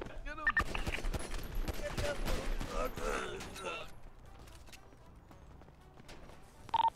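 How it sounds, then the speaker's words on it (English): Gunfire in GTA roleplay: rapid bursts of shots crackle loudly through the first few seconds, mixed with mechanical clatter, then fade to quieter background with a final sharp report. "We're getting shot from elsewhere."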